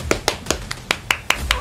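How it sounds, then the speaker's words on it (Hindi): Eight sharp hand claps in a steady, fairly quick rhythm, close and clear, with faint background noise between them. "तालियां तालियां भाई, तालियां इसके लिए"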